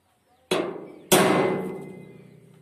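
Two sharp metallic hammer blows on a center punch marking drill-hole spots on steel for a trailer hitch, about half a second apart, close and loud, each ringing briefly before fading.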